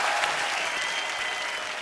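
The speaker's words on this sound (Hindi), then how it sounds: "ब्रावो के लिए और जोरदार तालियां हो जाए यार" A television comedy show's studio audience breaks into loud, dense applause that carries on steadily for the full two seconds, with no voice over it.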